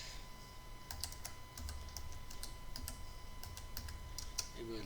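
Quiet, close computer keyboard typing, a scattered run of light key clicks over a faint steady background hum, with no speech.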